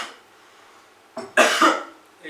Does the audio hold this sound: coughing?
yes